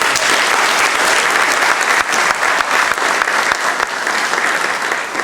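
Audience applause for a Navy Honor Guard from the Naval School of Health Sciences at a graduation ceremony, a dense, steady wash of many hands clapping throughout, loud and unbroken with no talk over it.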